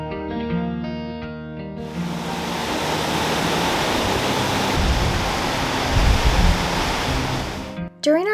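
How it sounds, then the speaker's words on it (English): A large waterfall in Iceland's continental rift roars as a steady, dense wash of broadband noise, loud and close. A brief tonal sound opens the clip before the rush swells in, and it cuts out near the end. "There's a waterfall."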